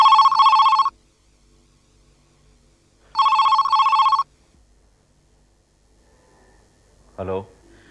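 Telephone ringing while a call is placed, two loud electronic double-ring bursts a few seconds apart, followed by a brief voice.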